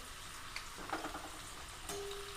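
Bitter gourd seeds frying in hot oil, a soft, steady sizzle with faint crackles and a brief stirring scrape, close by and fairly quiet, with no voices.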